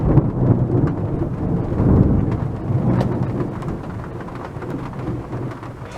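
A thunderstorm over a baseball field, with heavy steady rain and deep rolling thunder rumbling loudly throughout, no voices.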